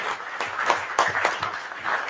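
A short burst of crowd applause, dense scattered clapping at moderate volume with no voices.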